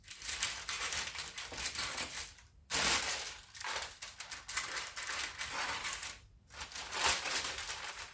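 Baking paper lining being scrunched into the corners of a flapjack tin and snipped, close and loud, with crinkly bursts coming in uneven waves and short pauses between them.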